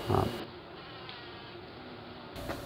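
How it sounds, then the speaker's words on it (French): Carpenter bee, Xylocopa fenestrata, buzzing near tomato flowers on Réunion, a steady close drone lasting a couple of seconds after a brief louder thump at the start. "C'est le xylocope, Xylocopa fenestrata, appelé communément mouche charbon"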